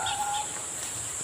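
Brief bird calls, a couple of short chirps over a thin hiss of outdoor ambience, fairly faint and distant.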